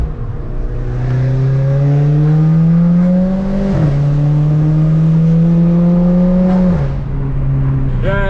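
A VW Golf GTI fitted with a cold air intake revs hard above 5,000 RPM, a loud close engine howl rising steadily through two long pulls, each broken by a quick shift drop before easing off at the end.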